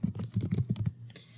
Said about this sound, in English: then you can just start typing in problems